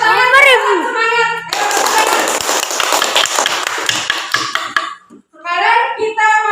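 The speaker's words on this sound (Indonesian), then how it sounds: "ini tepuk tangan" A class of fifth-grade children claps their hands together in a burst of dense, lively applause lasting a few seconds, with voices speaking just before and after.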